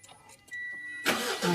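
A Mitsubishi Pajero's engine cranks and catches after a few faint clicks, then settles into a loud, steady idle close to the microphone.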